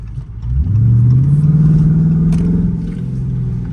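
Dodge Charger R/T fitted with Carven performance mufflers and a resonator delete, revving up into a loud, sustained, throaty drone held close for several seconds before easing slightly.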